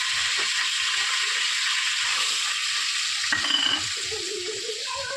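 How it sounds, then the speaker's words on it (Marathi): Spice masala hitting hot oil in a pan, a steady close sizzle and hiss that carries throughout, with a brief clatter of stirring partway through. "आता तेल छान गरम झाल्यानंतर हा मसाला आपल्याला टाकायचा"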